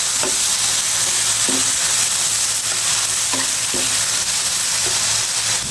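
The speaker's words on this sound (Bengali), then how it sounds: "আলুটা দিয়ে দিয়েছি, দিয়ে দিচ্ছি লবণ, একটু হলুদ দিয়ে দিয়েছি। এখন একটু নেড়ে ফেলে দিচ্ছি।" Potatoes with salt and turmeric frying in oil, a loud continuous sizzle close by, broken by several sharp stirring scrapes at roughly regular intervals, with no voices.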